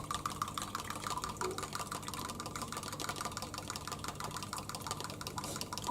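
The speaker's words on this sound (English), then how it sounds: "I'm going to whisk these ingredients together." Savoury muffin ingredients, with an egg among them, whisked by hand in a bowl, a steady rapid clatter of tapping and scraping that keeps going, close and moderately loud with no talking.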